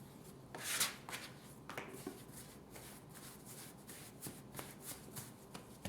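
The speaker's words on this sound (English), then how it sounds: "using a plastic bowl scraper, I'll fold the dough over onto itself" Bread dough being folded over onto itself with a plastic bowl scraper, faint soft scraping and rubbing strokes at an irregular pace, with no talk.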